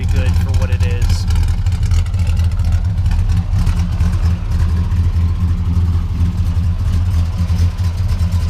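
A 1962 Plymouth Valiant station wagon's Slant 6 engine fitted with a mild cam idles close by, with a steady, lopey low rumble and some voices in the background.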